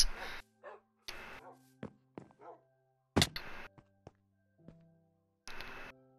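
Tamed dogs in the Minecraft video game: several short, sharp barks and yips in separate bursts with gaps of silence, fairly close, mixed with faint game tones.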